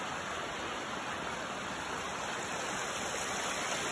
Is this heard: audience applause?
no